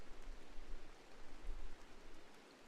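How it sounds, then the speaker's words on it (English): Soft, continuous foggy rain patter in the game Rimworld, with low rumbling gusts, a fairly quiet and even wash of drops with no voices. "A foggy rain outside"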